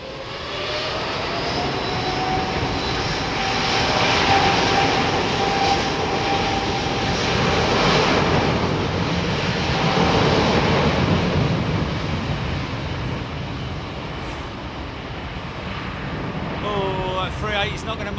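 Airbus A380 jet taxiing at Heathrow Airport ahead of Storm Ciarán, heard as a continuous, heavy engine roar that swells and eases gently over the stretch, with wind-like rushing around it.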